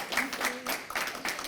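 A library lunch audience claps for a guest speaker, with a patter of applause rising and falling over a short stretch while a voice talks over it.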